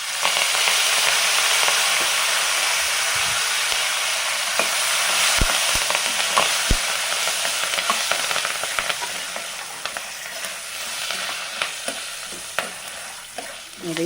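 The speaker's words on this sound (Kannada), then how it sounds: "ನೋಡಿ, ಇದೆಲ್ಲ ಗೋಲ್ಡನ್ ಕಲರ್ ಬಂದಿದೆ, ಚೆನ್ನಾಗಿ ಫ್ರೈ ಆಗಿದೆ." Dried red chillies and curry leaves frying in hot oil for a mango chitranna tempering, a steady loud sizzle with crackles and stirring throughout, no one talking.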